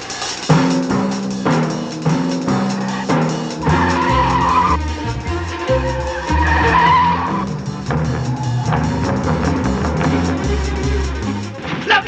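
A car skids with screeching tires in a French holiday comedy film, a loud sustained squeal lasting several seconds over a busy soundtrack.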